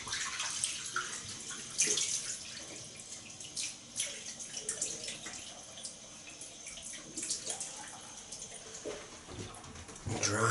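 Running water splashing as a face is rinsed after a shave, close and uneven, with intermittent splashes and drips over a steady trickle.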